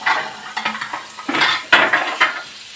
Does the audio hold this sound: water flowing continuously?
no